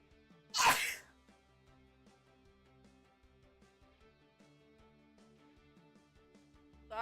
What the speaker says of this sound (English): that was a cookie sneeze